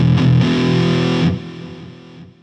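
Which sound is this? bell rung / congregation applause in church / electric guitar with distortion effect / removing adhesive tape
electric guitar with distortion effect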